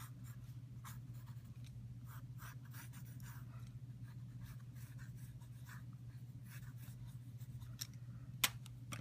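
Quiet scraping and snipping of scissors cutting through paper sketch pages, a series of short crisp strokes over a steady low hum, with one sharper click near the end.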